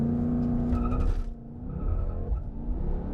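A Mercedes-AMG C63S blasts off under launch control, its engine roaring loud and close with a short squeal of spinning tires before the note dips at a gearshift and builds again.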